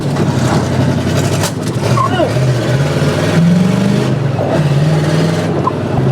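A 350 V8 in a four-speed Camaro Z/28 revs hard and steady, its deep exhaust note rising and falling through several close, loud pulls.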